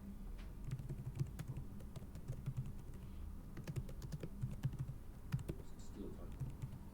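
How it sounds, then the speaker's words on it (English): Quiet clicking of someone typing on a computer keyboard, a steady flurry of light key taps with brief pauses, close and soft over low background noise. "Still typing."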